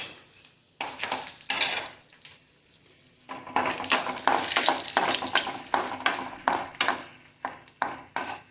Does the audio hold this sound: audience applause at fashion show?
no